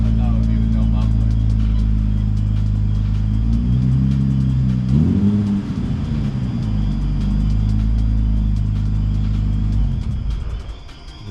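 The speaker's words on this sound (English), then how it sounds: "That's not as loud as I thought it would be with no muffler." A Nissan G35 with its VQ engine and an Apexi N1 exhaust with no muffler idles loud and close with a deep, droning burble, then revs up in a swelling rise midway and settles back, with talking over it.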